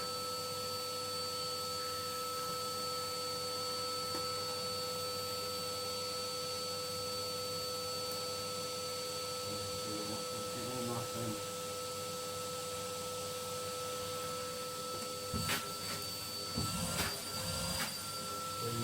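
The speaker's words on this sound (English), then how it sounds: "I'm going to switch on the hoover." A hoover runs steadily while sweeping out an open fire, giving a constant whine and drone throughout with a few brief knocks and clatters near the end.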